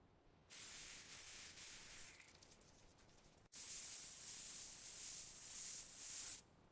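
A spray bottle mists at a marathon, giving two long sustained hissing bursts close by, the second brighter and steadier, with no talking.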